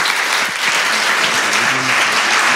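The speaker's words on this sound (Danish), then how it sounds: "Skal vi ikke klappe af dem her" An audience at a Danish hospital-practice presentation claps for the staff who did the practical work, a dense, steady round of applause filling the room close by with no pause throughout.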